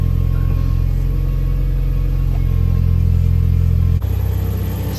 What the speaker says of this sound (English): Yeah, it's a bad pump.